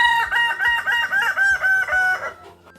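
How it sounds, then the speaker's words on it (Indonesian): A Kukuak Balenggek rooster, a local West Sumatran breed, crows in a long, rising and wavering call with repeated bursts, loud and close, with a few soft thumps underneath. "Ayam kukuak Balenggek adalah ayam lokal di Sumatera Barat"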